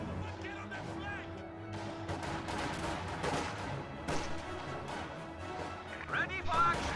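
Gunfire in a real-time strategy battle game, with infantry, grenadiers and Panzer Fusiliers fighting; dense rattling shots and crashes run steadily throughout under continuous commentary.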